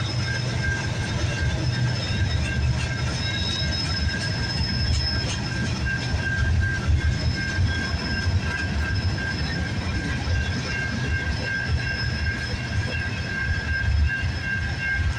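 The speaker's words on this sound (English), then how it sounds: "There, we got a manifest train." A CN manifest freight train rolls past steadily at close range on a rainy, foggy morning, a continuous loud rumble of wheels and cars with a sustained high squeal running throughout.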